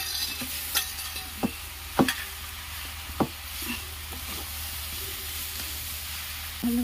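Poi leaves stirred and frying in a pan for an Odia village prawn dish, a steady soft sizzle with several sharp scrapes and clicks of a spoon against the pan, no voices.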